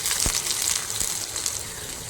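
Chopped garlic and onion frying in coconut oil in a pan, a steady close sizzle and hiss with a couple of soft knocks, no voices.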